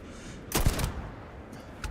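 A rifle fires in the video game Starfield: one loud, close burst of shots lasting under half a second, then quiet background with a faint later thump.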